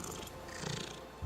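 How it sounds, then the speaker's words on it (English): A cat purring in a video game, a soft continuous rumbling purr that stays low and steady, heard alone with no talking. "I think we're gonna waste all of Rolaco's turns just purring"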